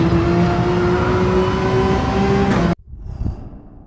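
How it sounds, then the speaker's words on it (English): Race car in GT7 accelerating hard around Brands Hatch, a loud, sustained engine howl with steady pitch that cuts off abruptly near the end, leaving quieter rumbling. "He doesn't accelerate out until after his front tires leave the rumble strip."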